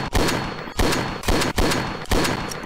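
Gunfire in the Roblox game Rag doll Mayhem: five loud, close gunshots spaced roughly half a second apart, each with a short decaying tail, no talking.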